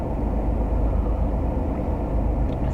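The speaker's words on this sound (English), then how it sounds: "If you hear the air conditioner, you know why." A car air conditioner blows steadily inside a parked car in hot desert heat, a constant low rumbling whoosh of fan and engine with no break and no talking.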